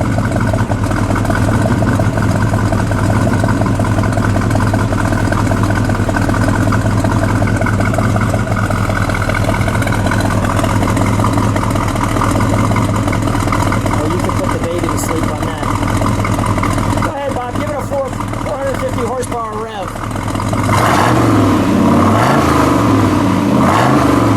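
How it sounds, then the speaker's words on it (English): A 1970 Chevrolet Chevelle SS convertible with a 454 LS6 V8 and four-speed idles close by with a loud, steady, deep rumble that holds constant throughout and roughens briefly near the end. "let me just listen to it idle for a second."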